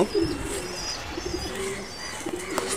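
Pigeons coo softly on a rooftop in a Bangladeshi city, low repeated calls over steady background noise with a few faint chirps, no voices.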